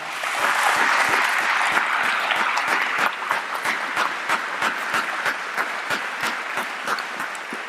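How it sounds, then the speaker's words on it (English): A crowd at a Boys State 2021 assembly applauds steadily for several seconds, dense clapping with sharp individual claps standing out, holding a fairly even level throughout. "I'd like to have a round of applause"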